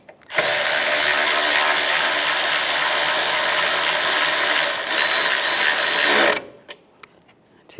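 A power tool tightens a bolt on a transmission mount of a 1998-2010 Volkswagen Beetle, one loud, continuous whirring burst lasting about six seconds, close up, then a few small clicks and taps.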